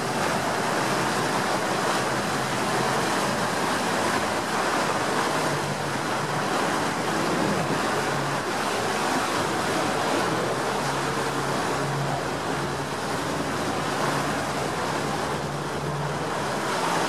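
Sea waves wash continuously onto the shore at Santa Margherita Ligure on the Italian Riviera, a broad steady roar mixed with wind buffeting the microphone and no voices.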